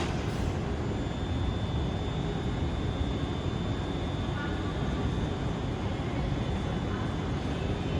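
A Scotrail service pulls out of Glasgow Central station bound for Edinburgh Waverley, a steady, continuous rumble and hum of the moving train filling the whole stretch with no clear break.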